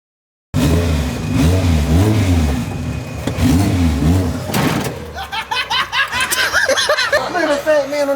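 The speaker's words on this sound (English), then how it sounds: "Oh, that scooter's struggling." A scooter's small engine revs and strains, its pitch rising and falling, while voices laugh and chatter over it.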